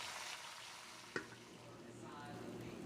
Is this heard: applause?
no